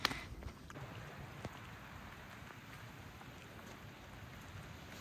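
Steady soft rain on the Camino de Santiago between Bilbao and Castro-Urdiales patters continuously with a constant hiss, fairly quiet and even, a few light taps near the start.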